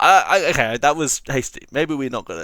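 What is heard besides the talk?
No everyday noises stand out.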